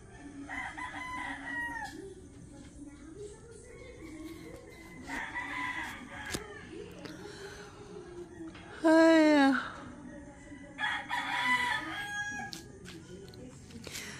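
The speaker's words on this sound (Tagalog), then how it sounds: "Sarap pakinggan yung mga ganyang tilaok ng manok" Roosters crow in the early morning in a rural province, several loud drawn-out cock-a-doodle-doos spaced apart, one close and strong, others farther off, with faint clucking and a quiet voice in between.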